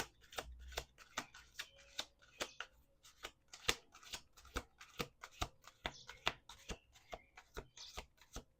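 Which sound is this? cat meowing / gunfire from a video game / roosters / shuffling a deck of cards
shuffling a deck of cards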